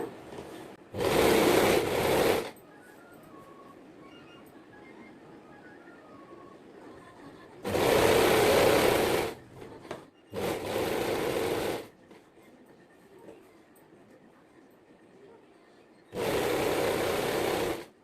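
A sewing machine stitches a rounded seam on nightsuit fabric folded at a chalk mark. It runs in four separate bursts of steady whirring, each lasting one to two seconds, with quiet pauses between them.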